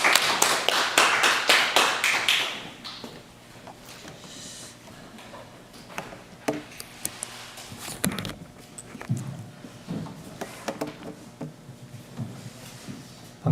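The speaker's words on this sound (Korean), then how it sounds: "박수로 받겠습니다" An audience at a Korean church symposium gives a brief burst of applause that fades within a few seconds. Scattered quieter taps and room noise follow.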